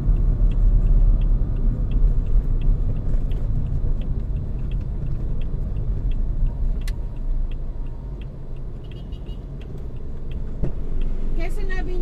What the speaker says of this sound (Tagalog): Traffic update dito sa Caloocan, EDSA.